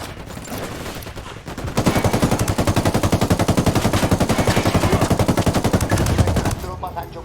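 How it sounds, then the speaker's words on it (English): Sustained automatic gunfire in the Ghost Recon Wildlands video game, a rapid continuous burst of loud shots running for several seconds over a steady background din, with faint game voices. "Opening fire."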